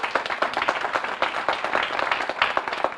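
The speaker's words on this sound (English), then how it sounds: "Let's give them a round of applause, please." An audience at a summer learning press announcement applauds teachers in Camden, close, lively clapping with distinct individual hand claps in a busy, steady burst and no talking over it.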